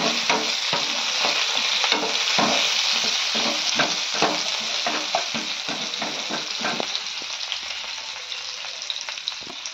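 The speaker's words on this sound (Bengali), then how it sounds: "দিয়ে এটাকে এবার আস্তে আস্তে একটু নাড়াচাড়া করে আমি ফ্রাই করে নেব।" Small potol pieces are fried with turmeric in a pan at home while being stirred. A constant close sizzle runs throughout, with repeated scraping and clinking of the spatula in a loose rhythm, and nobody speaks.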